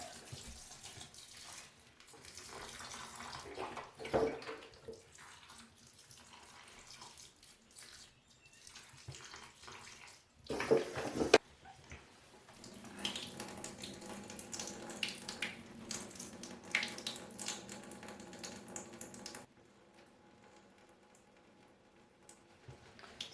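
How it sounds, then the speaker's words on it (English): Tap water flows over the soil of a potted Hoya plant, a soft running splash that swells and fades in several bursts before stopping, faint and close. "I do want to flush out the soil and whatever it might have in it."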